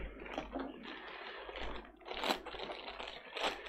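Scissors cut through a cardboard package with quiet, ragged snipping and crackling, plus a couple of sharper cuts near the end, all close and faint.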